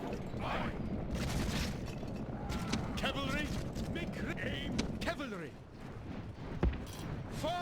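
Soldiers fire on enemies during a Lord of the Rings strategy game battle, with scattered booms and gunfire-like cracks mixed into a busy, noisy battle din, while someone talks over much of it.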